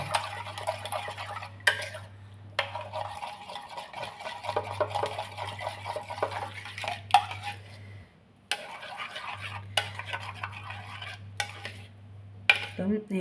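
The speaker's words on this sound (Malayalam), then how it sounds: "സ്പൂൺ കൊണ്ട് നന്നായി ഒന്ന് ഇളക്കിയെടുക്കാം നമ്മൾ പഞ്ചസാര ഒക്കെ ഒന്ന് ഇതിൽ മെൽറ്റ് ആവുന്ന വരെ ഒന്ന് ഇളക്കി" A spoon stirs an egg and sugar mixture in a bowl, giving quick, close clinks and scrapes against the sides in bursts with short pauses, alongside a steady low hum in the background.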